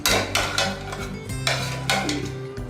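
A metal cooking pot of mutton bone thaalsa being opened, with several ringing clanks and scrapes of lid and utensil against the pot, close and clear, with no talking.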